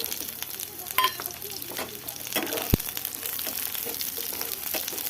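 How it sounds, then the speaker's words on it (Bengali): Raw onion, cut in big pieces, sizzles in a pan of oil with dried chillies and garlic fried red. Steady frying hiss carries throughout, with a sharp clatter of stirring midway. "এবার কাঁচা পেঁয়াজটা দিয়ে দেবো।"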